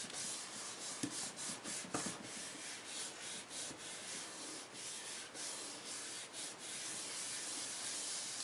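Steady close rubbing across a stamped paper card to clear off excess yellow ink, a continuous dry scuffing texture with small irregular swells, running alone for several seconds.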